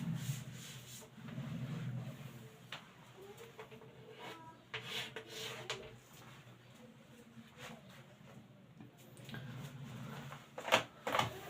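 A board eraser rubs out written equations on a classroom board, giving soft, close scrubbing strokes in short bursts with brief pauses between passes.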